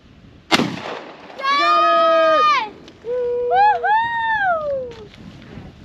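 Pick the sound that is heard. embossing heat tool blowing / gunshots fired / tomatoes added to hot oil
gunshots fired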